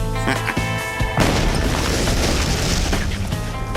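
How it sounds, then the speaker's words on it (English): A C4 plastic explosive detonation hits with a sharp, powerful boom after a few small knocks, then rolls out into a long, loud rumbling decay with no talk over it. "When in doubt, C4."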